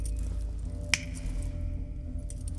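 A single sharp finger snap cracks out near the start, close and clear over a low, quiet background hum.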